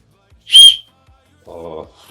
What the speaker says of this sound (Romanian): Iei fluierul, sufli și se aude mai tare.